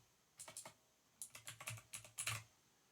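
Quick bursts of keystrokes on a computer keyboard, first a short run of four clicks and then a longer rattling series, crisp and close in an otherwise quiet room.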